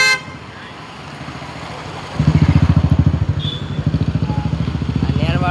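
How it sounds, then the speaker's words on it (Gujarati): A Royal Enfield motorcycle idles in heavy city traffic in Surat, its close, loud thumping beat setting in after a quieter start, with a horn near the beginning and faint traffic around it. "રોયલ એનફિલ્ડ બાઇક જો તમે."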